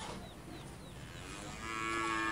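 Sacrificial cattle gathered for Eid al-Adha in Batam let out a drawn-out moo that swells in the last second. A quieter murmur of livestock lies beneath it, and no one talks.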